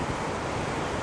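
Ocean waves heard as a steady, loud wash of surf noise with some wind buffeting, continuous over a brief moment with no voices.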